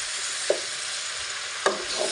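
Chaltar pickle with jaggery stirred in a pan, giving a faint steady sizzle with two brief scraping knocks of the spoon, no talking.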